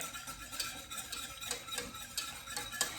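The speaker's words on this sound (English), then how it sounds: "You really want to get that whisk into the corners." A whisk scrapes and taps steadily in quick, rhythmic strokes as it stirs roux in a pot on a stovetop. The sound is faint and close, with no talking.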